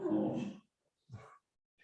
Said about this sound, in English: My dog is upset at the neighbor.